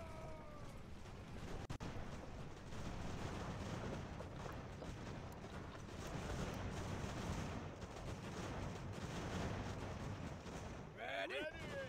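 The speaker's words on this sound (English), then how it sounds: "Just shoot a volley against them, you guys." Rumbling musket volleys and distant booming fire in a large battle in the strategy video game Ultimate General: American Revolution, a low continuous roll of shots, fairly faint, with a few voices speaking over it.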